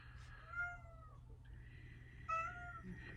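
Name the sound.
cat meowing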